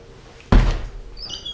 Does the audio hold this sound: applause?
no